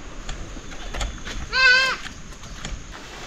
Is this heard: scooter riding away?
no